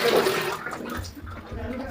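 Water rushes into the outlet line of a small 3-litre geyser just after the supply valve is opened, a steady close gurgling flow that gradually settles.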